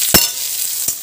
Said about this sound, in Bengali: এদিকে পেঁয়াজটা ভাজছি আমি